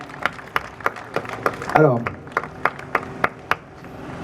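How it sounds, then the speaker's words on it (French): An audience at the award ceremony for the Thomas Sankara Prize claps in a steady, rhythmic beat, sharp regular claps ringing out over a person speaking. "Je pense que ça s'applaudit."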